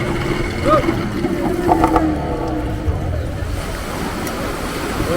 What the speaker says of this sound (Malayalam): ആ അല വരുമ്പോൾ അങ്ങനെ സ്പീഡിൽ പിടിച്ച് വലിച്ചു കയറ്റും